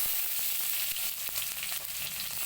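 Cumin seeds and bay leaf crackle in hot oil, a faint, steady hiss with small scattered pops and a few soft clicks, no talk.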